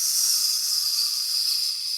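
A voice imitates sizzling bacon with a continuous, steady breathy hiss that holds at an even level for the whole stretch.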